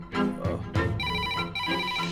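A telephone rings with repeated bright electronic tones, a steady ringtone pattern sounding clearly after a brief low rumble at the start.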